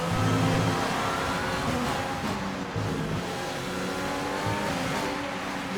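An F1 car in F1 2020 at the Vietnamese Grand Prix runs through the final corners with a loud, continuous high-pitched engine whine. The revs shift through the turns, with a brief tyre squeal and no speech.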